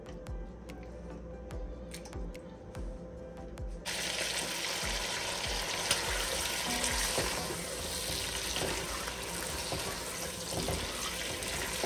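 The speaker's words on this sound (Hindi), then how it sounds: "चिकन को ऑयल में मैं थोड़ा सा पहले फ्राई करूंगी" Chicken, one kilo, hits half a cup of hot oil and bursts into a loud, steady sizzle that runs unbroken to the end after a quieter start.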